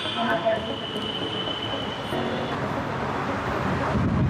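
A metro train runs steadily in a continuous rumble with a faint high whine, heard from onboard during a long ride, with a faint voice underneath.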